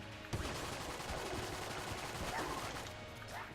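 Rapid gunfire from a machine gun in the dungeon-crawler shooter Enter the Gungeon, a dense, continuous rattle of shots layered with game effects and no pauses.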